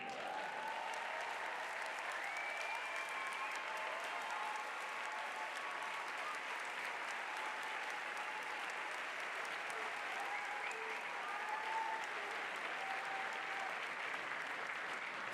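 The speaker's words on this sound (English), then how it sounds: "please stand and receive a round of applause" A graduation ceremony audience applauds at length, a dense, even wash of clapping from a large crowd that holds steady for about fifteen seconds, heard at a moderate distance with no voices over it.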